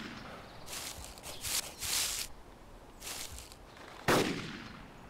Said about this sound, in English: Oh, I hear him shooting